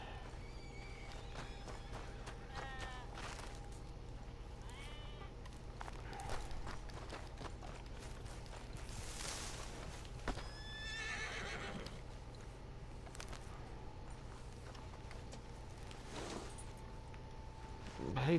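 A horse in Red Dead Redemption 2 snorts and whinnies several times, its hooves clip-clopping softly beneath a steady low game ambience, with brief speech-like sounds mixed in.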